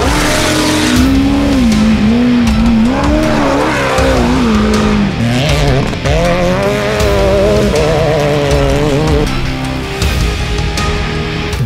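Off-road racing vehicles in the video game Baja Big Air roar continuously, engines revving up and down with tire squeal, loud and close throughout.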